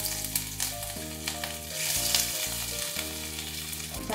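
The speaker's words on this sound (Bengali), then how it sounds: "ফোড়নটা একটু তেলে নেড়ে নিচ্ছি। ফোড়নটা ভাজা ভাজা হয়ে গেছে। এবার আমি দিয়ে দিচ্ছি আদা বাটা" Whole tempering spices and ginger paste frying in oil in a pan, a soft crackling sizzle with light stirring, heard under a steady, sustained tonal background.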